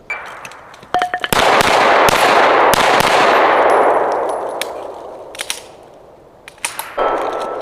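Pistol shots ring out on a homemade USPSA steel swinger target. There is a loud close crack, then a long washing echo and a few more sharp reports and metallic clangs near the end.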